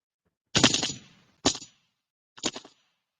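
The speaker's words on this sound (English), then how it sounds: "Gunshots on that, and we got a boo on that." Three sharp gunshot blasts, loud and close, the first a short rattling burst followed by two single shots with brief pauses between.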